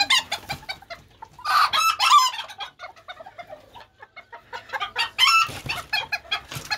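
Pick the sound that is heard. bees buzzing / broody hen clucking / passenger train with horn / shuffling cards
broody hen clucking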